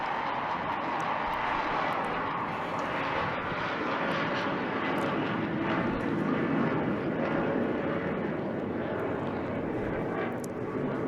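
Saab J-35 Draken jet during a display flight with a huge afterburner, a continuous broad roaring rumble heard from a distance at steady loudness with no talking.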